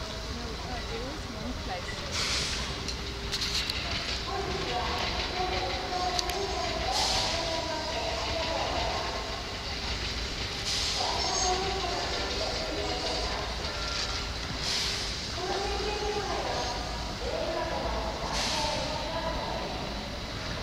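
A steam locomotive rumbles steadily at moderate distance moving onto a turntable at the Kyoto Railway Museum, with mechanical clanks and a few higher squeals, while people talk faintly in the background.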